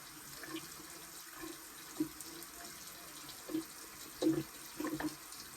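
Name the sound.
water running from a bathroom tap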